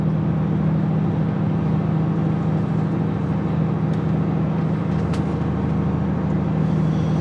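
A DAF truck engine drones steadily as it crawls up a hill, a continuous low, even hum with no change in pitch and no one speaking.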